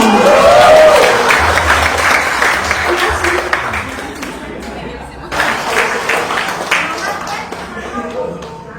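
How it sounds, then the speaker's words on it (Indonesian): A crowd at an Indonesian event claps in a loose, uneven burst, with a voice talking over the start and background chatter throughout as the applause thins and picks up again. "Tepuk tangan dong"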